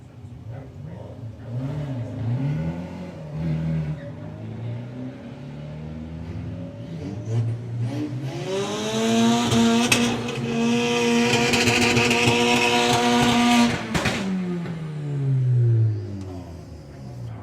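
A Sonic Audi and a VW Beetle named Strip Poker drag race side by side at a VW drag racing national final, engines revving with rising gear-change whines that swell to a loud pass, then fade, with no talk.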